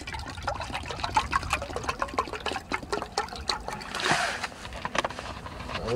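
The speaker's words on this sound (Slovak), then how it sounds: "Ja si nalejem vodu." Water is poured into a pot on a small wood-pellet and twig camping stove outdoors, a close splashing, gurgling stream with a brief heavier gush near the end.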